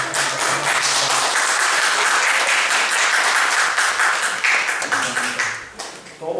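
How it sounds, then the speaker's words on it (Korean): A church congregation claps warmly to welcome a first-time visitor at the end of a service, a close, full round of applause that fades out over about six seconds, with a brief voice near the end. "저기 앉아 계신 분 박수로 맞이하겠습니다"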